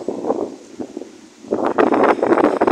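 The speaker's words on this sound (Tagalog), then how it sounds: "Lakas ng hangin saka yung ulan nagsabay" Strong wind gusts buffet the microphone outdoors near the sea during a storm with rain, rough rumbling bursts that swell louder in the second half, with no voices.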